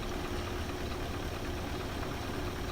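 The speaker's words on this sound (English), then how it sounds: "Truck's just idling down now to the bottom of the quarry" The diesel engine of a Mustang 5320 modded truck in the SnowRunner video game idles with a steady, even, mid-low rumble and a faint knocking texture, continuous and close.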